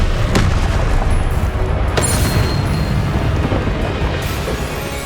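A Confringo blasting spell going off in Hogwarts Legacy: sharp booming explosions at the start and around the two-second mark over a dense, rumbling game soundscape, with no voices.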